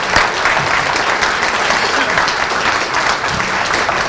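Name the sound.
audience applause for award winner Jason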